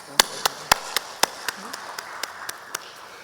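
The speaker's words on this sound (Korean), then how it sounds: "우리 영광의 박수 한번 드려요." A Korean church congregation claps in slow, spaced single claps, about a dozen fairly sharp hits in a steady rhythm over a quiet room.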